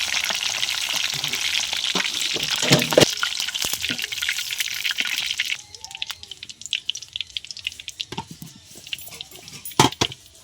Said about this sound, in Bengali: তো পনিরগুলো ভেজে নেবো